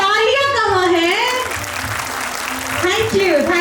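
Applause at a school annual function, steady clapping filling the clip with music and voices running loudly over it.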